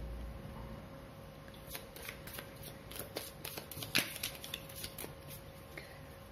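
Tarot cards are shuffled by hand for a reading, producing a quick run of light papery flicks and riffles that cluster in the middle, with one sharper snap, over a quiet background.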